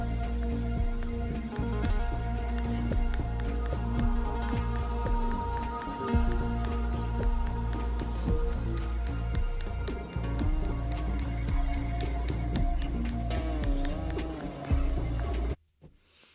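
A guitar riff plays with a steady rhythm and repeated plucked notes over a low bass line, then cuts off abruptly near the end.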